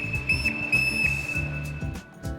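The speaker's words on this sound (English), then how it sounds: "First, a whistle. This will be used for communication on the water, as well as to alert others in the case of an emergency." Safety whistle used for water communication and emergency alerts, a thin steady high tone held throughout, over a repeating low rhythmic background pulse, fairly loud and close.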